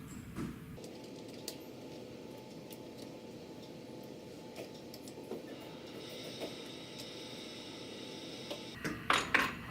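Metal connecting plates on EXAIR air wipe piping are retightened by hand, giving faint scattered ticks and small metallic clicks over a low steady hum, with a short burst of louder clinks at the end.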